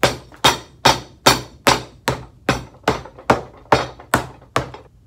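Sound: French hammer pounding leather moccasin boot

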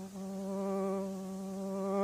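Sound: voice imitating a buzzing flying insect

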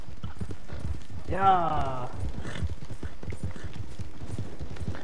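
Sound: horse hooves clip-clopping in a Western video game

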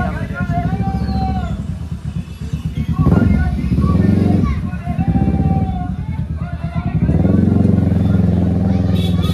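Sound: motorcycle engine

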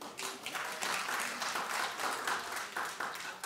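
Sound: studio audience clapping

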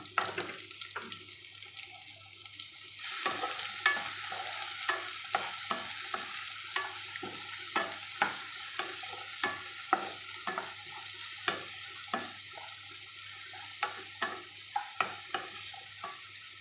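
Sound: frying onion with asafoetida in a pan

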